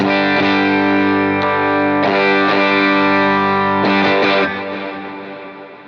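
Bass guitar through a Tube Screamer overdrive pedal into a Carbon, played alone with the effect switched on and off, sustained bass notes shifting in grit and tone across several phrases, ending with a fading note.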